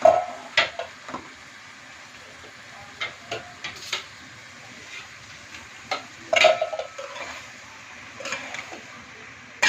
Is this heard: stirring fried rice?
yes